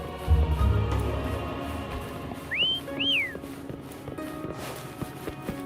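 A character whistles to summon a mount in the video game Wuthering Waves: two rising-and-falling whistle notes in quick succession, heard over soft footsteps and ambient game sound.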